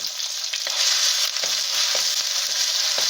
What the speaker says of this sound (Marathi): छान परततो.